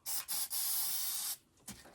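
Spray adhesive hisses from a can onto a backpack back panel in a sewing workspace: three close, loud bursts, the last held longest, followed by a faint short puff.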